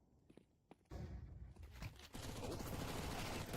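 Submachine gun fire in Counter-Strike 2, including a MAC-10, bursting in after a quiet start and rattling on as a loud, dense stream of shots.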